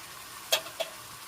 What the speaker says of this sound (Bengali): এবার এর মধ্যে এক এক করে প্রথমে দিয়ে দিচ্ছি টমেটো পিউরি